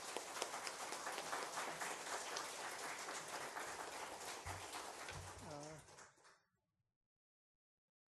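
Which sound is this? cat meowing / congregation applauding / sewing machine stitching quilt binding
congregation applauding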